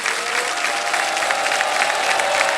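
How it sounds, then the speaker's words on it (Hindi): Dense, steady applause from a studio audience on the KBC quiz show set fills the whole stretch, loud and continuous with no break. "तालियां बज जाए इनके लिए"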